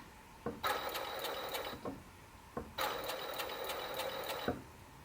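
An overlock sewing machine wrapping a fabric edge, running in two separate bursts of rapid clattering whir with brief pauses and clicks between them, close up with no talking.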